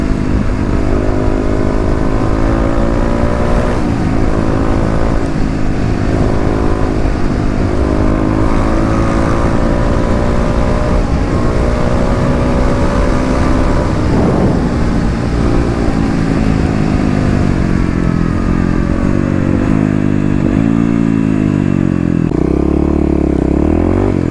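A fuel-injected Kawasaki KLX351 dual-sport motorcycle accelerates hard on a road, its engine loud and close with rising, shifting revs through several gear changes and constant wind rush.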